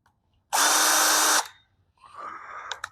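A cordless drill whirs loudly for about a second, spins down, then whines briefly again at lower speed with a few clicks.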